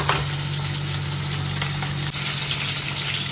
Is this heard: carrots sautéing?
yes